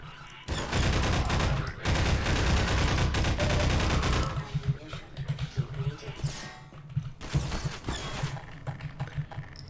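Dense gunfire from video game weapons in a Half-Life map, rapid automatic bursts packed tightly for several seconds, then sparser shots and impacts with gaps, loud and close.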